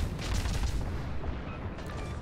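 Heavy naval guns boom in a World of Warships battle as the destroyer Khabarovsk engages the Izumo, a dense rumbling barrage of salvos and impacts.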